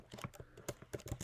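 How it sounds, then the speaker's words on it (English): Quick typing on a computer keyboard, a close, quiet run of a dozen or so uneven key taps over a little more than a second. "So let's type this in."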